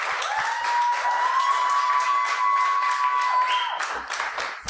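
A talk-show studio audience claps and cheers for arriving guests, steady loud applause running throughout while a sustained tonal musical sound plays underneath.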